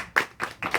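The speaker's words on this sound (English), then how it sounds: "Round of applause for Cindy too" At a bookstore book signing, three distinct claps ring out close and fairly loud, evenly spaced within under a second, like the beginning of a round of applause.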